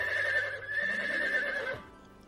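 A mare named Scarlett whinnies, a loud, sustained and wavering neigh lasting nearly two seconds before cutting off, with a faint lower hum underneath.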